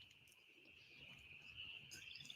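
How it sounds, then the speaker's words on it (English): Frogs call outdoors in flooded ground, forming a faint, steady high-pitched chorus with occasional louder chirps, heard alone at a distance. "listen, you can hear the frogs."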